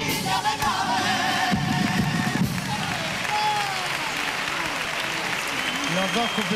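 Audience applause and crowd noise fill a Cádiz Carnival hall after a comparsa sings its cuplé in the 2004 final, a steady wash of clapping with voices mixed in throughout.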